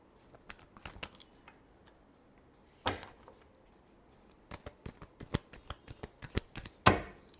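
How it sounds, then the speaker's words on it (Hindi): Tarot cards being shuffled in a final shuffle, a string of soft papery riffles and taps with a sharper burst of card noise near the end, close and fairly quiet with no voices. "last shuffle"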